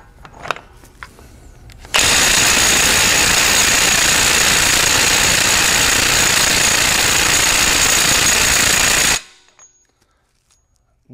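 Ridgid cordless impact wrench hammering on a factory-torqued lug nut: one loud, continuous rattling burst lasting about seven seconds, close up, then stopping abruptly.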